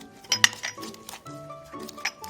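Light clinks and taps of a utensil against a bowl while garlic, scallion, pepper and sesame oil are mixed into seasoning for braised tofu, a few sharp close knocks over soft stirring.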